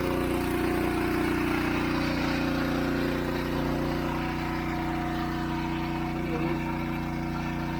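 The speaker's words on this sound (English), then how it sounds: "We're pumping out of this swamp." Engine-driven pump drawing water out of a swamp beside a walking trail, a steady mid-pitched motor drone running continuously at close range, with people talking over it.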